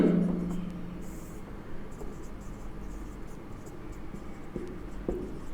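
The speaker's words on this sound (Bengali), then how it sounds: "অ্যাকচুয়ালি আমি এটা একসাথে লিখতে পারি" Math being written on a board during a lesson, quiet scratching and tapping strokes scattered through a hushed room, a louder knock at the start and a few sharp taps later.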